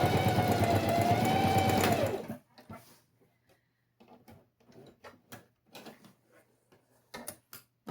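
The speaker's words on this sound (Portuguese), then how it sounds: "E vamos novamente passar uma costura de fechamento aqui." Sewing machine running steadily at close range for about two seconds while stitching a closing seam on a small fabric mini box, then stopping, followed by faint scattered clicks and handling noises.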